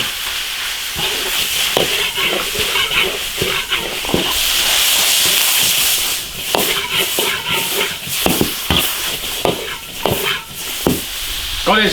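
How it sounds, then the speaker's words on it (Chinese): Pork belly, green and red peppers and peanut sprouts stir-fried hard in an iron wok over high heat, a steady loud sizzle and hiss with repeated scraping clatters of the spatula throughout. "大火爆炒1分钟"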